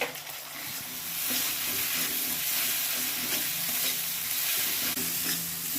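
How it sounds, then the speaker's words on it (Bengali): Poppy seed paste being stirred into a frying spice masala for a vegetarian curry, a loud thick sizzle with rhythmic scraping stirs of a spatula, close up and without talk. "এর ভিতরে পোস্ত বাটাটা দিয়ে দেবো পোস্ত বাটাটা দিয়ে নাড়াচাড়া দিয়ে"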